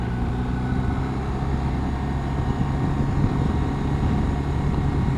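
A BMW R 1250 RS motorcycle rides in second gear along a quiet road in the Haut Morvan. Its low, steady engine drone mixes with constant wind rush, with no voices.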